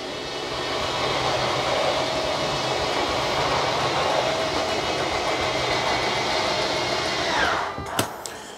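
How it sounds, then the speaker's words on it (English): A Schwentek 12 volt slide-out motor on a 2023 Forest River Salem Cruise Lite 24RLXL camper whirs in a steady, fairly loud electric drone for about seven seconds, then winds down and stops with a couple of clunks. "They're currently using the Schwentek slide motor on this model."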